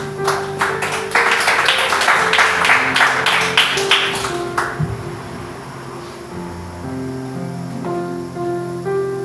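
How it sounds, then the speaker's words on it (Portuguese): Church congregation at a deliverance service clapping together in quick, rhythmic applause that fades out after a few seconds, leaving quiet room tone with faint sustained organ-like tones. "Dê uma linda salva de palmas"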